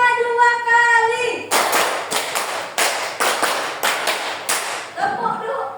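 A group of adults claps a rhythm pattern in an ice-breaking game, sharp unison claps in short bursts with brief pauses between them, close and loud, framed by a spoken voice at the start and end.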